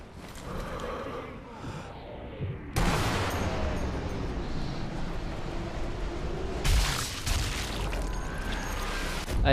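A sniper rifle shot in Sniper Elite V2 cracks out abruptly and loud, followed by a sustained, roaring game soundscape with a second heavy burst later, and speech is mixed in.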